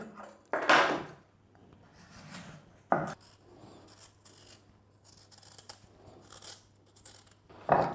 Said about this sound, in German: Die Kartoffeln habe ich mir gerade eben schon geschält, jetzt noch die Möhren und den Kohlrabi.